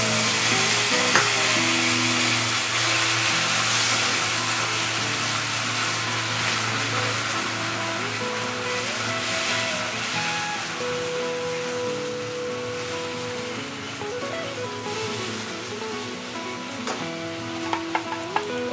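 Chopped onions frying in a pan of ghugni, a continuous loud sizzle with stirring scrapes, beneath a background hum of tonal noise and occasional clinks.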